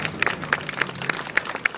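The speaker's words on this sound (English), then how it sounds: "let's give Elliot a round of applause for helping me out." A small circus-show audience gives a volunteer brief, sparse applause, with scattered individual claps popping up close together over a soft crowd murmur.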